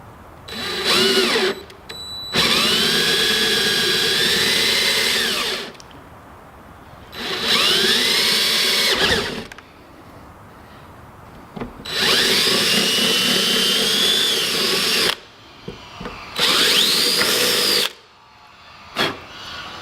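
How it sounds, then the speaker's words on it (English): A power drill whines in several separate bursts, each running a few seconds as it bores holes for mounting a wicker-style car spoiler, with short quiet gaps between. "So, just drill another one."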